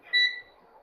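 A digital multimeter set to continuity mode gives one short, clear electronic beep, loud and close, that fades quickly into quiet room noise.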